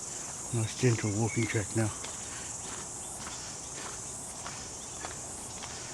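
Insects chirp in New Zealand bush along a walking track in Totara Park, a continuous high buzzing drone that runs throughout, with someone briefly speaking early on and soft footsteps.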